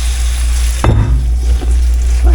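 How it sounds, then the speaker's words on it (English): Cubed steak frying in a pan, a loud steady sizzle with a brief clatter of a utensil stirring or pressing the meat partway through. "Till you hear it sizzling."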